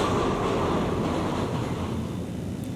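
Steady, continuous rumble of a train running on rails, heard from inside a passenger carriage, with a dense low roar and no speech.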